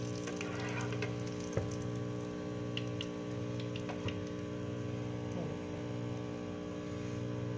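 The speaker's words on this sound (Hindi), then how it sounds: "बाकी भी सारे कबाब हमने इसी तरह फ्राई करना है" Chicken potato kababs fry in hot oil with a soft, steady sizzle, set against a constant electrical hum and a few faint clicks of handling.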